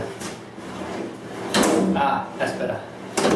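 A drawer on a Mastercraft garage base cabinet slides and bumps as it is opened and closed, several short close knocks and scrapes, with a voice speaking in the background.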